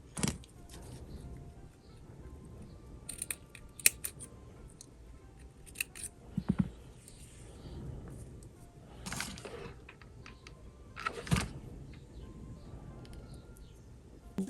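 Scissors snip several times at irregular intervals while a hair accessory is being made, with sharp, close cuts separated by quieter handling rustles.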